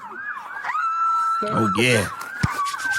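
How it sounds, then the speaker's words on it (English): A police siren wails through a traffic stop, its steady high tone rising and holding across the clip, loud and close, while people speak briefly over it. "I hear them sirens."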